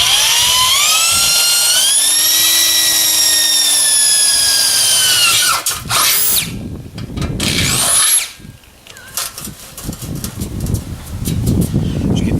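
A power drill whines up to speed, then grinds and chatters as the bit bites into material while installing a ball valve on a keg, loud and close, with rough bursts toward the end.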